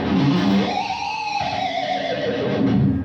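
Electric guitar played through effects, with whammy-bar bends imitating a horse's whinny in a rock style: a loud, distorted, rising and falling whinny-like cry lasting about three seconds, heard alone.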